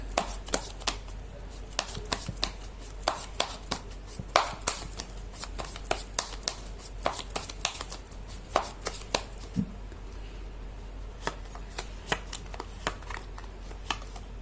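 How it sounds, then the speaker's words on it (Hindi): Tarot cards are shuffled by hand, producing a steady run of soft, crisp slaps and riffles at a close, even rhythm for about fourteen seconds without talk. "मैं कर लेती हूँ कार्ड की शफलिंग"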